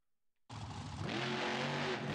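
A truck engine in the driving game BeamNG.drive starts up after a brief silence and keeps running with a loud, steady, full-bodied drone, rising slightly in intensity partway through.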